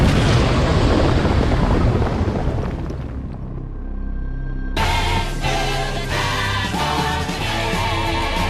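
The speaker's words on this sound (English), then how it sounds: "There was supposed to be an earth-shattering kaboom" A loud, rumbling cartoon-style kaboom explosion roars for about three seconds and fades out, then music with a steady beat takes over.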